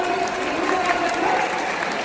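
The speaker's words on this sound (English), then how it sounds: "Can we give a clap for" Students and guests at a school farewell function clap together in an auditorium, a continuous crowd applause at fairly loud level with some murmur mixed in.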